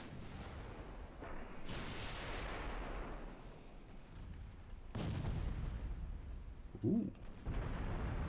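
In the Ultimate Admiral Dreadnoughts naval battle game, warship guns boom as deep rumbling salvos at several points over continuous low battle noise, and one voice makes a short exclamation.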